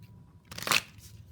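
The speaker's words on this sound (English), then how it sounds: "I'm going to shuffle a few more times." Tarot cards shuffled once in a single brief riffle burst, close and fairly quiet against a faint low hum.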